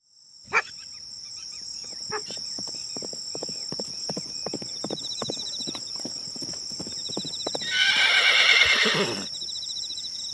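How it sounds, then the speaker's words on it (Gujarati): A mare on a Kutch racing scene clip-clops in a steady run of hoof strikes, then lets out a loud, close whinny near the end over a faint insect hum. "ઘોડી આવી કોકની"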